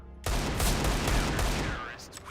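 Rapid gunfire from a Counter-Strike: Global Offensive match, a dense burst of loud overlapping shots lasting about two seconds before tapering off, close and dominant.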